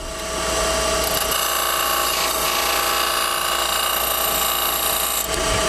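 A skew chisel dragged upward across a spinning wooden bead on a wood lathe, giving a steady, loud, continuous scraping hiss over the lathe's hum and lasting several seconds without a break.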